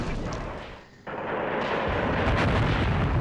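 An artillery shell scoring a direct hit in Graviteam Tactics, a loud battlefield rumble that dips briefly into quiet, then an abrupt heavy blast followed by sustained roaring explosion noise and crackling.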